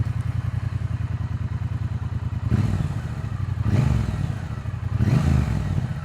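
Triumph T120 motorcycle parallel-twin engine running, a steady loud low idle throb with three short rising blips of throttle, close up.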